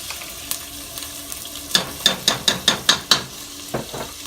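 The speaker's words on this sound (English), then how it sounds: "You gotta quick stir" A spoon quickly stirs garlic puree and sofrito in a hot pot for arroz con gandules. Soft sizzling runs under a fast series of about eight rhythmic scraping strokes, close and fairly loud, with no talk.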